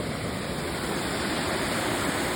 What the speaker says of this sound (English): the water running over the edge